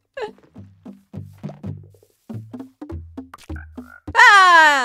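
Frogs in Minecraft give a string of short, low, deep croaks in an uneven rhythm, close and clear, followed by a louder rising-and-falling tonal call at the end.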